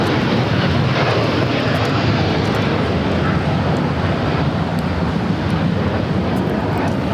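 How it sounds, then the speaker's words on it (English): United Airlines Boeing 787-9 Dreamliner taking off from LAX, a loud, steady broadband engine roar with constant rumble and wind-like hiss throughout. "This is United Airlines Flight 32, taking off to Tokyo Narita on the 787-9 Dreamliner."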